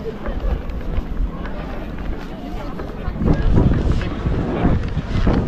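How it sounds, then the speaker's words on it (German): Strong wind buffeting the microphone at the Würzburg Christmas market, a loud low rumble that swells and gusts harder after a few seconds, with faint voices in the background. "Und jetzt kommt der Wind."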